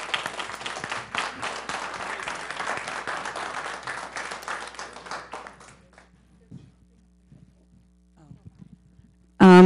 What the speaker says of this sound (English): Let's give these students another round of applause and congratulations.